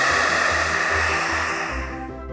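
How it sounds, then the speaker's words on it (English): A hair dryer blows with a loud, steady whooshing hum and a motor drone, close by and uninterrupted. "If you've still got electricity, take a hairdryer,"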